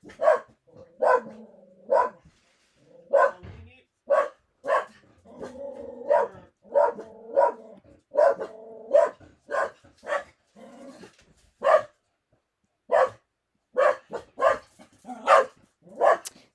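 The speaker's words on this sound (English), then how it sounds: "Yes, my dog is barking." A German Shepherd Lab mix barks repeatedly and loudly up close in irregular bursts, with some growling rumbles between the barks and no talking.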